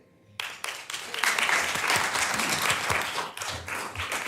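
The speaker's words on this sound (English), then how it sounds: "we do not have applause during public comment" An audience at a school board meeting breaks into applause after public comment. Scattered claps build quickly into steady, fairly close clapping that holds for several seconds.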